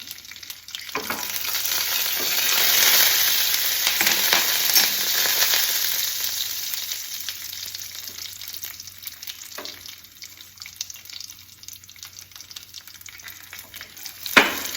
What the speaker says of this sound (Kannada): ಬಾದಾಮಿ, ದ್ರಾಕ್ಷಿ, ಗೋಡಂಬಿ ಇವು ಒಂದೇ ಸತಿ ಹಾಕಿ ಇವು ಸ್ವಲ್ಪ ಹುರಿದ ನಂತರ